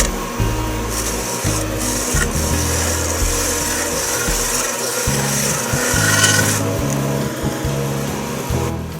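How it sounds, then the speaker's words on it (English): Half-inch bowl gouge taking nibble cuts across the glued brim of an exotic wooden hat-shaped bowl on a lathe, with rough scraping bursts over a steady spinning hum, loud and close. "I'm going to start with a few nibble cuts here with my 1/2-inch bowl gouge"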